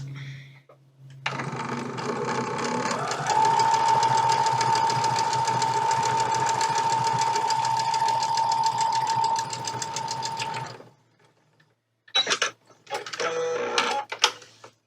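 Sewing machine stitching cotton quilt pieces for a block, running steadily at a near, fairly loud level for about nine seconds, then stopping; a brief burst of handling noise follows.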